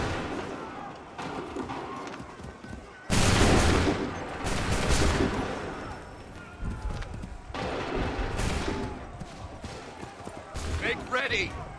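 Musket volleys in Assassin's Creed 3, with loud bursts of massed gunfire crackling in two or three waves amid the roar of battle, separated by quieter stretches of ambient commotion.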